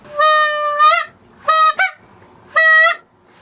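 Geese on a Long Island hunting trip give three loud, nasal honks close by, each a sustained call, the middle one broken into two bursts, with quiet gaps between.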